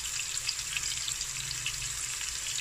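Steak searing in a hot pan with butter, a dense continuous sizzle and crackle holding steady throughout, close up and fairly loud with no voices.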